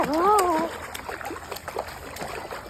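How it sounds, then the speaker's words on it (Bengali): A child splashes and kicks in water while learning to swim, producing irregular soft splashes and sloshing; a brief high-pitched voice cry comes at the start, then scattered close splashes continue. "পিছনে পা দিয়ে সাঁতার কাটো"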